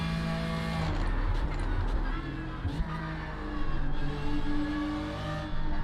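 BMW M4 GT3 race car in the iRacing simulator accelerating hard, its engine note climbing through rising harmonics with gear shifts, loud and steady throughout.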